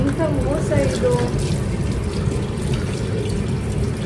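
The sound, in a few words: water running while washing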